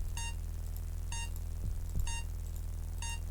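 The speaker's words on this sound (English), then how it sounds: "This thing is beeping still." A beeping device in the Space Quest 6 video game sounds four evenly spaced electronic beeps, each roughly a second apart, over a steady low hum with a couple of soft thuds.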